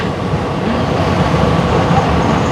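A train in Japan rushes along at speed, a loud continuous roar and rumble with rattling wheels, steady throughout from inside the carriage.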